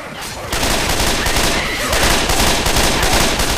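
Sustained, loud gunfire from the Left 4 Dead 2 Survival mode on the Sugar Mill map, dense overlapping shots that burst in after a brief lull and keep up without pause.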